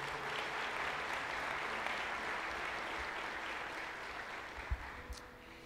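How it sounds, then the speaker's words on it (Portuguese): Steady applause from a large crowd, a dense wash of clapping that holds evenly throughout with no voices standing out. "Você pode aplaudir a Jesus aí?"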